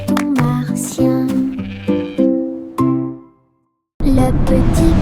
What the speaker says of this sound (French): Une histoire très cool sur les moutons martiens.